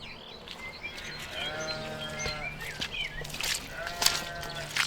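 Several sheep bleat at intervals, some wavering calls overlapping, over a steady low rumble in the background with occasional rustling.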